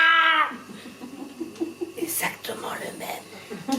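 At a slam poetry evening, a performer's voice imitates a cat's meow in a short drawn-out call, then soft speech and faint chuckles follow.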